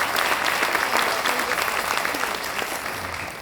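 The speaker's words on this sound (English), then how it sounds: "So a huge round of applause to you for coming back to cruising so soon." Audience applause fills a cruise ship show lounge, a dense steady wash of clapping from a large crowd that stays loud throughout and eases slightly toward the end.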